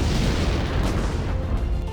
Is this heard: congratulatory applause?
no